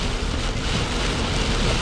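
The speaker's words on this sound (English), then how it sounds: "Full downpour." Heavy downpour from a severe thunderstorm in Ankeny, heard from inside a car stopped on a street with the wipers at full speed, as a dense, steady roar of rain that stays loud and constant throughout.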